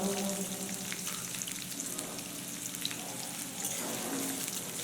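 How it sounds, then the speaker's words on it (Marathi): Onion frying in hot oil with a curry leaf tadka for a potato bhaji, a dense steady sizzle with light crackles and soft stirring, close and moderately quiet, no talking. "आता आपण यामध्ये कांदा टाकणार आहोत"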